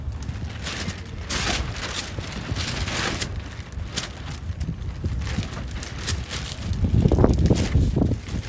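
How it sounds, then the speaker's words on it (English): Strong wind whipping across an outdoor bowls green during a tournament, buffeting the microphone in loud gusty rumbles that swell and fade, strongest near the end. "the wind is really whipping"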